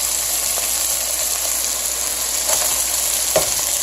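Food for Hawaiian pineapple tacos sizzles steadily in a hot pan, a loud, close, even frying hiss with a faint knock or scrape near the end and no talk.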